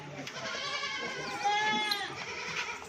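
A healthy dairy goat bleats repeatedly in loud, wavering, nasal calls close by, filling the whole stretch over faint background noise.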